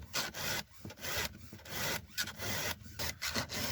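A dull cutting blade, likely a saw or axe used to cut sticks, being sharpened outdoors at an off-grid homestead: repeated rasping file strokes in an uneven rhythm, close and fairly loud, with brief pauses between passes and no talk.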